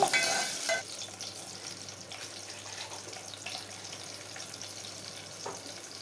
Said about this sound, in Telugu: కరివేపాకు కూడా వేసుకొని కొంచెం ఫ్రై చేసుకోవాలి